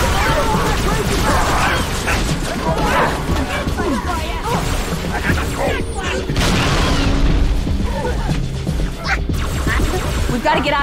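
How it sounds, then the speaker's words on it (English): Grenade blasts and heavy combat in Halo 3: ODST, a loud, dense stretch of booms, crashes and mechanical clatter with no pause, close and full, with voices breaking in now and then. "Grenade."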